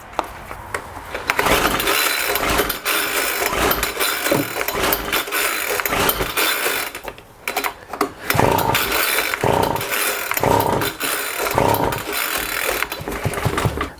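A Homelite Vac Attack leaf blower is repeatedly pull-started, with rasping cord pulls, rattling and brief sputters in close, uneven bursts. The choke is on.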